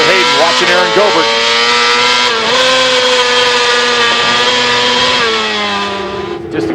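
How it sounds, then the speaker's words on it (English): Supersport racing motorcycle from the 2004 AMA Supersport Championship at Brainerd International Raceway, heard on-board: a loud, sustained high-RPM engine wail with rising and falling pitch through gear changes, continuous and close, with commentary voices mixed in. "Just incredible RPM through that section of the racetrack."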